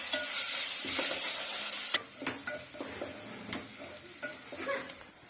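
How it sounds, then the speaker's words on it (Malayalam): Tomatoes sauté in oil for kurma, a steady sizzle with repeated scraping stir strokes of a spoon against the pan, close and fairly quiet. "അതുവരെയും നമ്മൾ വഴറ്റിക്കൊണ്ടിരിക്കണം."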